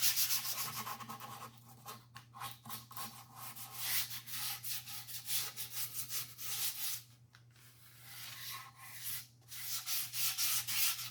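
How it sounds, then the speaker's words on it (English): Sanding the first finish coat on a guitar kit body with 220 grit sandpaper: steady, fairly quiet back-and-forth rubbing strokes that continue throughout, with a few short pauses. "I prep the surface for another coat by smoothing down the first coat with 220 grit"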